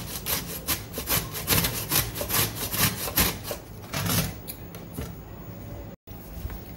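Raw green mango is grated by hand: rapid, rhythmic rasping strokes that scrape in quick bursts, close and fairly loud, with no talking.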